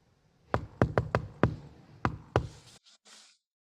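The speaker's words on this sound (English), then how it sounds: "that knock that he did on the door" Sharp knocks on a door ring out in an uneven rhythm, about seven distinct raps, close and clear in a quiet room, followed by a couple of faint softer sounds.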